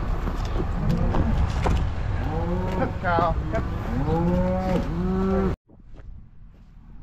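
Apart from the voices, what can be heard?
cow mooing in a barn during calving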